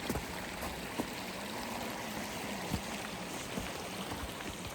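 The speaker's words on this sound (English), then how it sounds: "Here's our beautiful little Tilly Jane Creek." Tilly Jane Creek, a small mountain creek on a snowy winter trail, rushes steadily and close as an unbroken wash of water with a few soft knocks, no voices.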